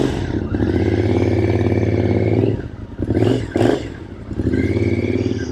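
Carbureted 2006 Triumph Scrambler 900 with an 865cc 270-degree parallel twin, its engine loud and close while riding, holding a steady drone, dipping and surging through two quick throttle blips before settling back to a steady pull.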